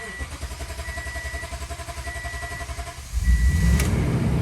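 A 2016 Toyota Tundra catches after cranking on a freshly replaced fuel tank, a close pulsing crank giving way to a louder, steady idle rumble.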